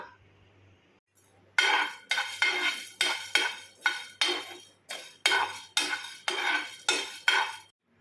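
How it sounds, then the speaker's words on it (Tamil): Urad dal dry-roasting in a pan without oil while being stirred, giving about ten loud, regular scraping and rattling strokes of the spoon against the pan, close up, after a quiet opening with no talk. "இதை எண்ணெய் சேர்க்காமல் வறுத்து எடுத்துக்கலாம்."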